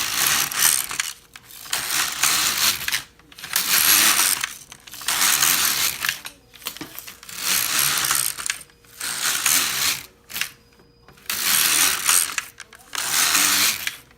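LK-150 knitting machine carriage sliding across to knit straight stitch rows, about seven loud ratcheting passes in a steady back-and-forth rhythm with brief pauses between them.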